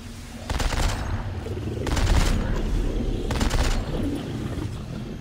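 Gunfire in Dead Space 3 video game, three rapid bursts of automatic shots about a second and a half apart, loud over a rumbling game background.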